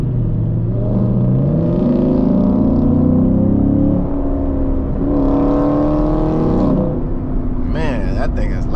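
A loud V8 engine in a Camaro SS or widebody Scat Pack rumbles heavily and climbs in pitch through two revving pulls during a late-night drive, heard close throughout, with a person talking near the end.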